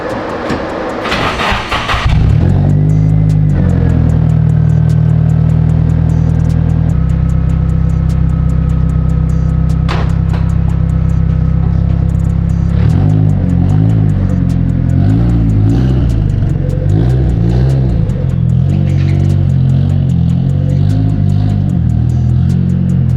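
A Honda Civic Si widebody with a Makspeed turbo kit being installed, whose engine cranks and catches, then runs loud and steady at idle before several revs rise and fall, close by with no talking.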